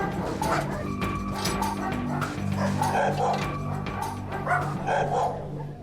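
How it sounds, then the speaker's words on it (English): A small puppy barks and yips in quick bursts, close and fairly loud, with a steady background of low noise and no clear talking. "I think there's a guard dog back there."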